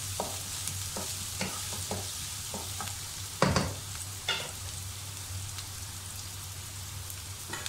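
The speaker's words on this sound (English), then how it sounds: "Now we are using the yellow onion. Yellow onions are sweet, so we caramelize it" Yellow onions caramelize in a pan with a steady, soft sizzle under a low hum, broken by scattered stirring clicks and one louder scrape partway through.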